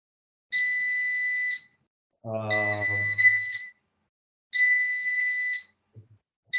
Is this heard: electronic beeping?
yes